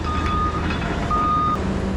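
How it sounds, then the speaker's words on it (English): Garbage truck backing up at a landfill, its reversing alarm sounding two long steady beeps over a loud, rumbling diesel engine and broad yard noise. "the trucks really start rolling in"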